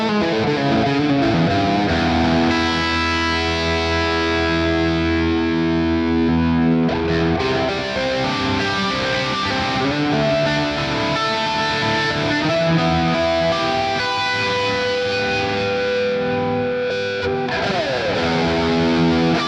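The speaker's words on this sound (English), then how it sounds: "Got a tape delay again." A loud, distorted electric guitar through a Fender Mustang Micro Plus with tape delay plays a continuous run of chords and riffs, with notes smeared by repeating echoes.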